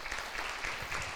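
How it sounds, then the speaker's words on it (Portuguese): A church congregation claps in praise during a worship service. The applause is brief, steady and fairly quiet, a soft wash of many hands. "Aplauda o Senhor por isso."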